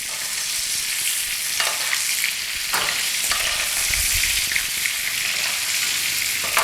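Steak sizzles loudly in a pan with butter, being turned and basted, giving a steady bright crackling hiss with a few louder spatters and stirring bursts, no voices.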